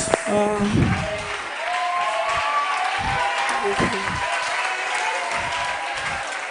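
Applause from a crowd mixed with cheering voices, steady and moderately loud, with people talking over it throughout.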